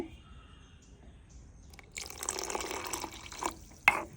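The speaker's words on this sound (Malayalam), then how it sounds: "അപ്പോൾ ആവശ്യത്തിന് വെള്ളം ഒഴിച്ചു കൊടുക്കുകയാണേ" Water splashes and gushes into a pot of chili curry for about two seconds after a quiet start, loud and close, ending with a sharp clink.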